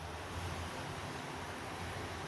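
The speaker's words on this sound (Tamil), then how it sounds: "எல்லாத்தையும் மிக்சியில் நைஸாக அரைச்சி எடுத்துக்கங்க" A mixer grinder blends tomato chutney with onion and salt, making a loud, unbroken roar that fills the whole moment without a pause.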